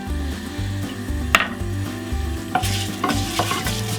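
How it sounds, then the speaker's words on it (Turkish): Dry orzo (arpa şehriye) toasting in a pot for chicken soup, a steady scrape and stir with light sizzling, a few sharper clinks of a spoon against the pot, close and alone with a low hum beneath. "Bu arpa şehriyeleri efendim biraz kavuracağım."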